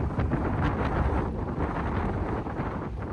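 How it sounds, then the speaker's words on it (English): Strong wind buffets the microphone at Misery Beach boat ramp, a constant loud low roar with gusty swells and no break across the whole stretch. "Oh, it's very windy."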